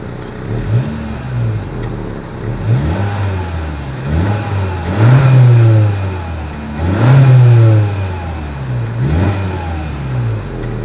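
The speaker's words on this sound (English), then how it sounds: "here is that exhaust clip" A 2020 Honda Civic Hatchback's exhaust revs up repeatedly in several strong bursts, each rising and falling in pitch, with a steady idle rumble between them.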